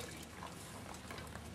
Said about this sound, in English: I squeeze out the water